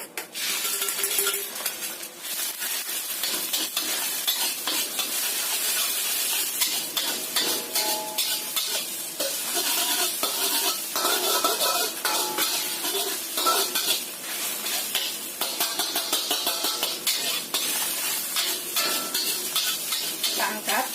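Eggs are scrambled in hot oil over medium heat, with a constant loud sizzle and frequent scraping and clinking of a utensil against the pan throughout.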